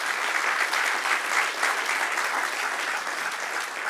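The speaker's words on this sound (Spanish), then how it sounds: "dale otro aplauso al Señor" A church congregation claps in praise during a service, a steady wash of applause heard from a moderate distance without any pause.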